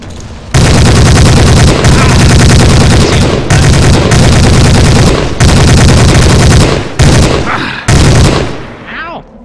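Heavy, rapid automatic gunfire in the Hidden & Dangerous 2 shooter game, loud close bursts separated by short breaks, ending with a few trailing shots.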